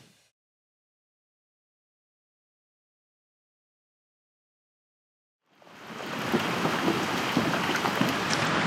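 Steady rain falling outdoors while kayak fishing, a dense hiss of drops that starts abruptly after several seconds of near silence and stays loud and even.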